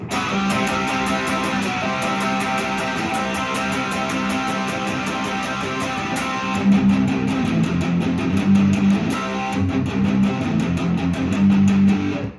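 Distorted electric guitar chugs through palm-muted power chords in a tight, driving rhythm, getting heavier and louder partway through, playing a song.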